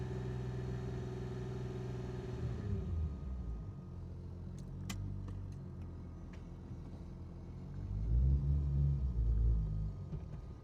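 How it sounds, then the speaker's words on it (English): A Nissan Skyline R34 engine hums at a steady low idle, with a few sharp clicks partway through, then rumbles louder as it briefly revs near the end. "this car is idling a lot better"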